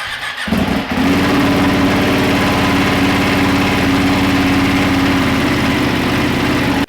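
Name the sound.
Ducati Panigale 959 motorcycle engine starting and idling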